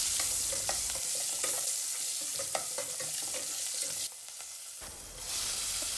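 Mustard seeds, curry leaves, asafoetida and small shallots sizzle steadily in hot oil in a pan for Tamil restaurant-style tiffin sambar, with a loud continuous hiss, scattered crackles and stirring clinks, and a brief dip near the end.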